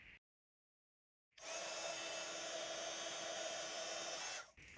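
A heat tool switches on after a short silence and blows with a steady, loud whoosh for about three seconds, melting superfine silver embossing powder on a small Christmas card sentiment, then cuts off.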